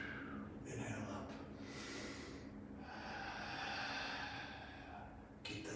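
Breath is drawn in during a warm-up stretch as part of a workout routine, a soft, close inhale followed by a longer airy exhale, quiet and alone with faint room noise.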